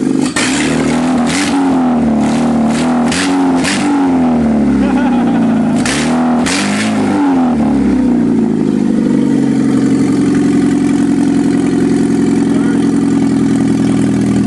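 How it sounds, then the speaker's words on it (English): A Ford Escort engine running off its header revs loudly and repeatedly in sharp bursts, then settles into a rough, steady idle, close and raw with an open exhaust note throughout. "Rev it up a little bit. I got flames"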